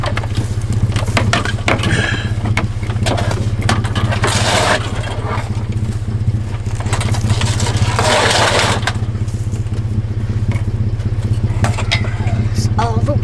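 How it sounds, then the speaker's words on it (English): A diesel heater runs inside a tent during winter camping with a steady low droning hum, close by and continuous, while people talk over it at a few points. "Just kicked our heater on."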